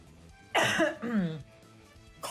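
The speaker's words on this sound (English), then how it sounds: "Coughs into the mic." A person coughs close into a microphone, two rough bursts in quick succession, harsh and throaty like clearing the throat, with a quiet sound starting at the very end.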